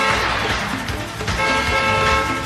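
An oncoming truck blares its horn on a city street, a loud, sustained honk close by that wavers slightly and holds for the whole moment.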